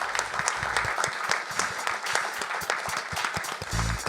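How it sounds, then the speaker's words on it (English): Steady audience applause fills a panel session at SXSW London 2025, dense overlapping claps sustained throughout at moderate distance, with a brief low rumble near the end. "if you would give a round of applause"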